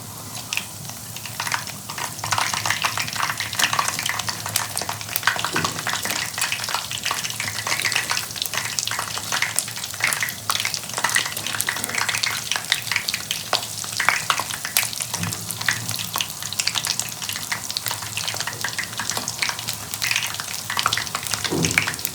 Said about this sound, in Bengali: এটা ভাজা হতে থাকুক